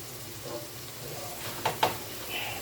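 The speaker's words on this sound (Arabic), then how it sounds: "بس ياخد بس تشويحه كده مع التوابل" Potatoes sautéing with spices in a pan give a soft steady sizzle, with a couple of brief sharp clinks near the end.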